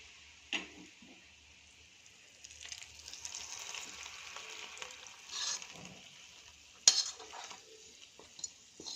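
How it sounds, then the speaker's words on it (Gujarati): Soft sizzle and stirring as hot seasoned oil is poured into a simmering pot of kadhi, with a few sharp clinks of metal utensils, fairly quiet. "હવે આ વઘાર આપણે કઢીમાં એડ કર્યો છે"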